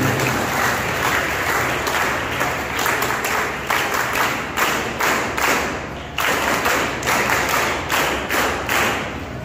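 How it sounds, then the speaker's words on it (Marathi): Sustained audience applause fills a school prize distribution ceremony, a dense steady wash of many hands clapping with irregular louder thumps throughout, continuing without a break and no voices over it. "आपण आपटे सरांसाठी एकदा जोरदार आपण टाळ्या वाजवूया."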